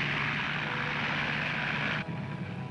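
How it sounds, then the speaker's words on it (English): Propeller-driven Hawk biplanes fitted with floats race in a seaplane contest, a steady loud engine drone throughout with a sudden shift in tone near the end as one passes. "They both flew Hawks fitted with floats."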